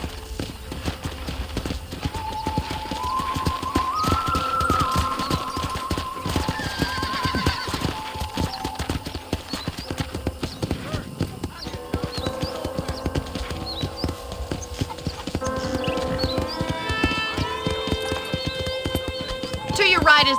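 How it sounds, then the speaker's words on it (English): A horse in the Red Dead Redemption video game clip-clops along at a steady pace on a ranch, with a neigh or two, under game music and someone talking. "let's see if you can still ride a horse"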